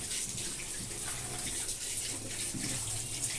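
Fish pieces being washed under running tap water in a home kitchen, a steady continuous splash and gush of water close by, with no talking.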